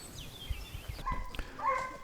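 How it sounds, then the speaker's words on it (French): Hunting dogs bark faintly in the distance during a wild boar drive hunt, giving short, scattered yelps and barks over outdoor background noise. "On peut entendre en fond de temps en temps les chiens."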